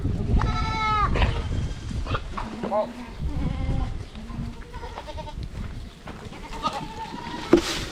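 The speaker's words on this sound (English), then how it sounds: "Supper time for the goats." Goats bleat repeatedly at supper time on a small farm, several close, wavering calls overlapping in quick succession, while a person talks among them.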